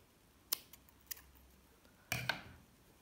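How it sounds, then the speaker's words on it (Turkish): Scissors snip through excess cord, giving a few sharp separate clicks followed by a louder double snip near the end, close and fairly quiet with no talk. "Fazlalığı kesiyorum."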